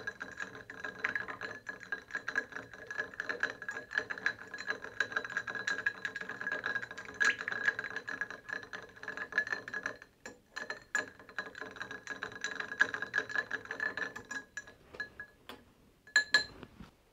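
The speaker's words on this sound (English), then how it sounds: "Give that a good stir until you feel the glass begin to get cold." Ice rattles and clinks steadily against a mixing glass as a De La Louisiane cocktail with Peychaud's bitters is stirred, a continuous close-up jingle of cubes that pauses near the end before a few final clinks.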